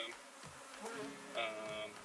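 Honey bees hum and buzz faintly around an open hive frame in a Colorado backyard hive, with a soft, continuous drone and a few louder passes close by.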